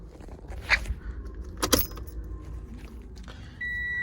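Keys jangle on a 2017 Toyota Corolla's ignition in two brief metallic bursts, then the switch turns and a steady electronic chime tone begins and holds.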